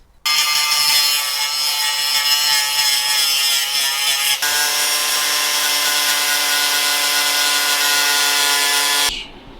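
An angle grinder grinds back a weld on a sword blade, producing a loud, steady high-pitched whine with ringing tones that shift pitch partway through as the disc bears on the steel, then cuts off abruptly.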